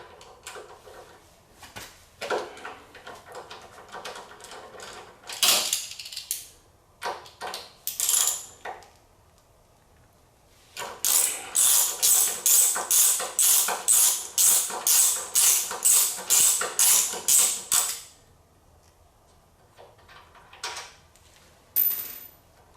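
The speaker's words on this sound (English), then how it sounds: "I am going to remove the pinch bolts" A 6mm Allen wrench works the front fork pinch bolts on a Honda VTX 1300R motorcycle, giving scattered metallic clicks and clatters, then a fast, steady run of sharp ticking clicks, close and fairly loud, with no talk.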